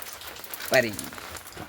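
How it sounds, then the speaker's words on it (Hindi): Rain falls during a village Navratri celebration, a steady soft hiss throughout with a brief voice cutting in near the middle. "बारिश भी हो रही है"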